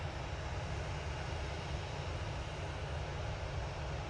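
Scandinavian Airlines airliner coming in to land at Manchester Airport, heard as a steady, unbroken wash of engine noise at moderate level for a few seconds, with nobody talking.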